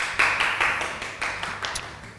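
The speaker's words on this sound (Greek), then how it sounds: "Για βάλτε άλλο ένα, γιατί μου αρέσει αυτό το χειροκρότημα" A film crew claps in a kitchen, a short, close burst of several hands applauding in uneven bursts that fade over about two seconds.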